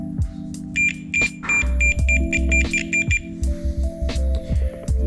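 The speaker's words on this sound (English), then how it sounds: "if you did it correctly, you should hear a beep" Short, high electronic beeps from a multimeter continuity test sound in quick bursts over clicks, rattling and low handling noise close by.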